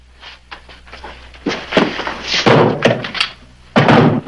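A trap door is hauled open in a building with a counter and a basement below, giving a sequence of loud, close wooden thunks and knocks, several heavy bangs in quick succession.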